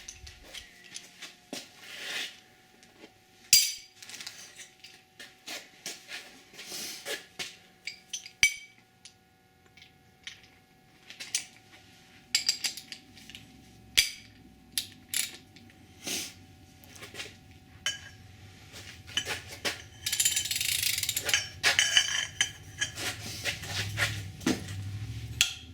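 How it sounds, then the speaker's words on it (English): Stock cylinder head bolts being loosened one by one with a ratchet on an engine, heard as scattered metallic clicks, clinks and ratcheting bursts at close range, with no talking. "Loosen all the bolts."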